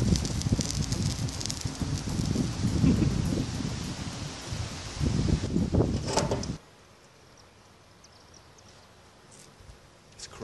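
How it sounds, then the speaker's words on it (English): Cooling molten potassium nitrate crackles and rustles as it recrystallizes, a dense close-up crackle that cuts off abruptly and leaves only faint sparse ticks. "Recrystallizing up as it cools and you can hear it crackling"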